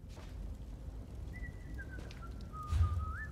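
A person whistles a short tune, a thin wavering melody that starts midway and moves through several notes over faint background hiss, with a soft low thump near the end.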